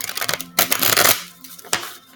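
A deck of tarot cards is shuffled by hand in close, crisp riffling bursts: a short flutter, a longer dense rush, then one final quick snap, with no talking.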